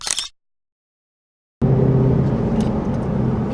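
A tuned 2017 Ford Mustang with its engine uprated to 495 PS rumbles loudly and steadily up close after a short burst and a moment of silence, no talking.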